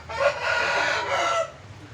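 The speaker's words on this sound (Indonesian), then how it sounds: "Ayam yang ke-6 Pak Bos punya Pak Asmuni" A black bulbul rooster crows at a rooster crowing contest, one long, loud crow lasting about a second and a half, then fading into quieter background noise.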